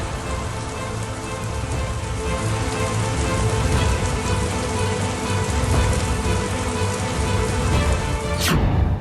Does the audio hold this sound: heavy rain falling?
yes